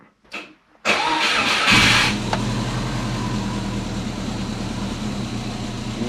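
A car engine cranks briefly and catches inside a closed garage, then settles into a loud, steady idle with no voices; the car has a clutch that is not disengaging.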